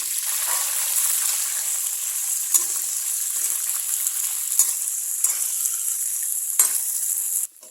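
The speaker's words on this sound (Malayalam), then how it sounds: "ഈ എണ്ണയിലേക്ക് നമുക്ക് നമ്മുടെ കുരുമുളക് ഒന്ന് വാട്ടിയെടുക്കാം" Black peppercorns frying in hot oil for a pickle, giving a steady, close sizzle that runs evenly throughout, with a few sharp pops and crackles, then a sudden stop at the end.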